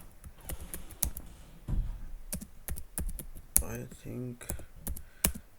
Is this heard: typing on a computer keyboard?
yes